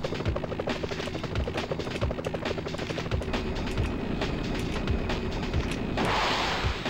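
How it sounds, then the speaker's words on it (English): Police helicopter rotors chop steadily through a Nintendo 64 Spider-Man game, mixed with rapid gunfire bursts and a swell of rushing noise near the end, loud and continuous with no talking. "They shot down those police choppers."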